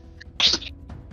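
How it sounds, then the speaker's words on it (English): A sudden sharp sneeze bursts out over a quiet room background, followed by faint breathy sounds. "Then I'm going to sneeze"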